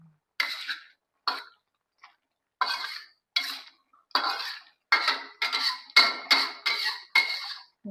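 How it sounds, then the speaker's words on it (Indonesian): A spoon stirs tomato soup with meat in a metal pot, giving a series of short scraping clinks at an uneven rhythm that grow quicker toward the end, close and clear with no talking. "kita coba aduk-aduk"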